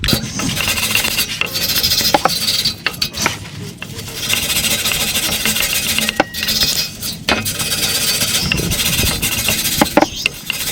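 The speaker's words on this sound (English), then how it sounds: "now I'm going to get my wire brush, and we're going to clean this surface here" A wire brush scrubs the exhaust flange surface on a 2013-2020 Subaru BRZ, giving repeated harsh metallic scraping strokes in bursts with short pauses, close and fairly loud, without talk.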